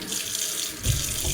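Cool tap water runs steadily from a faucet, rinsing dye out of a doll's hair, a close, continuous splashing rush that thickens and grows louder partway through.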